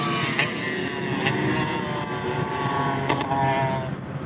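A two-stroke Aprilia RS250 motorcycle in Chesterfield livery runs on the Mallory Park race track, its engine note loud and steady with sharp revving bursts throughout.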